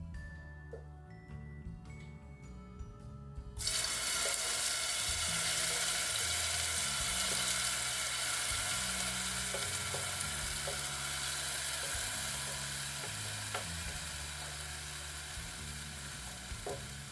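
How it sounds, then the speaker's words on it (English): Vegetables for a plant-based pinto bean soup hit a hot frying pan with a sudden loud sizzle after a few seconds of quieter kitchen sounds, then keep frying steadily with light stirring clinks. "I'm adding my vegetables to the pan"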